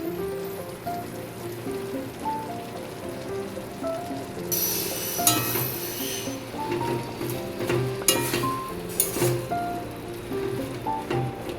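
Banana flower curry with chickpeas and peanuts, finished with ghee, stirred in a pan over a gas flame, giving a steady soft sizzle and bubbling with occasional sharper scraping bursts, close and continuous without talking.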